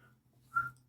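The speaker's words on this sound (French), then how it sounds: "Je peux siffler?" A person gives a short, soft whistled note indoors in a hall, one brief clear tone near the end over a low hum.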